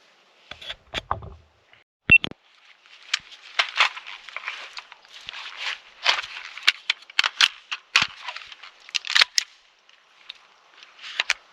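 Gunshots ring out at an outdoor shooting range, faint and distant: a couple of sharp cracks early on, another later, and a scatter of softer clicks and pops between them.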